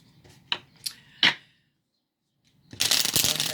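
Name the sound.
shuffling oracle cards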